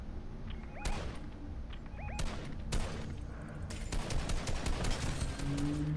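Rapid automatic gunfire from a P90 in a first-person shooter video game, several sharp bursts in quick succession, loud and close, with other game shots and effects layered behind.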